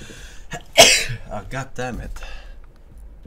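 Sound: sneeze

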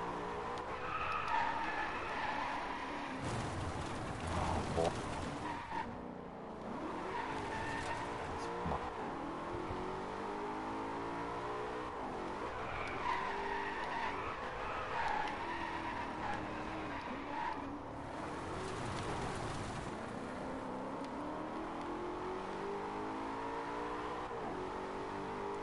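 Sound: car drifting with skidding tires in the Driveclub video game

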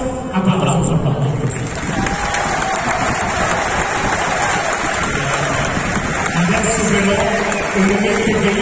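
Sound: crowd applauding Dybala's presentation

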